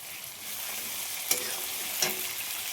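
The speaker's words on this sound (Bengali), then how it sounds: "আর আমি সব মশলাগুলো দিয়ে দিয়েছি একসাথে, দিয়ে মিক্স করে নেব।" Ground salt, turmeric, Kashmiri chili and coriander powder fry in a pan with a steady hiss, while a spoon stirs them and scrapes the pan with two sharp clinks.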